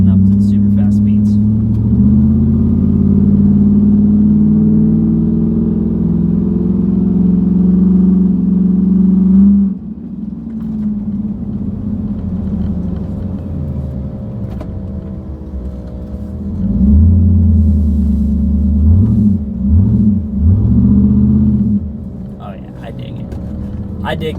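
A truck fitted with a straight pipe exhaust, held in first and second gear at higher RPMs, gives a loud, deep droning rumble heard from inside the cab that eases off, then swells again in a few revving surges.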